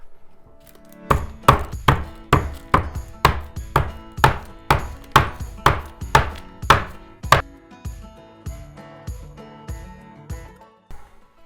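Venison steak pounded flat on a parchment-covered cutting board: a series of about fourteen heavy, regular thuds, close and loud, that stops partway through and leaves only faint handling noise, with no talking.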